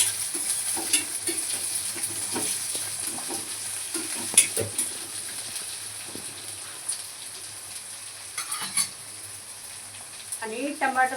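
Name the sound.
onions frying and stirred in pan for egg bhurji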